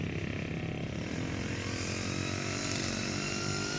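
A string trimmer runs nearby with a steady high engine whine that stays at an even level throughout, with no talking.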